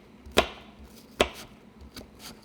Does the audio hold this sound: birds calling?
no